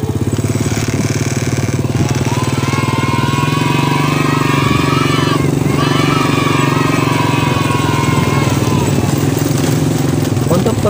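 A motorcycle running without a battery on a test drive, its engine chugging loudly and continuously close up, with pitch rising and falling as it revs and moves.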